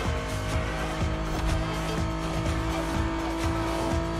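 A Ferrari driven in an Overwatch 2 game, its engine a loud, steady, droning hum with a repeating rhythmic pulse and tire noise throughout, with no talk over it.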